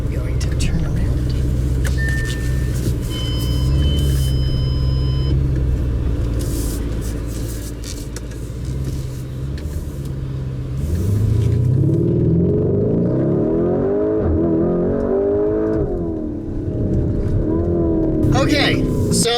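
A 2019 Lamborghini Urus SUV rolls through rush-hour traffic, its engine rumbling steadily and swelling as it turns around, close and loud, with occasional talk from the driver over the drive noise.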